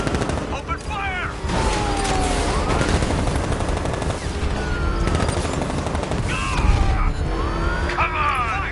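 Dense video game gunfire rattles continuously, loud and close, mixed with mechanical clatter and occasional heavier crashes, and shouted voices come through over the barrage.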